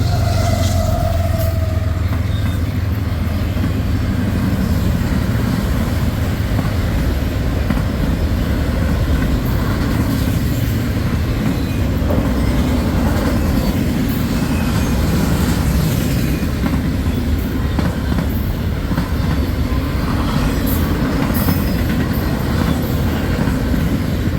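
A long freight train with a mid-train locomotive rumbling past at steady volume in Schuyler, wheels clattering over rail joints, with a deep engine drone partway through.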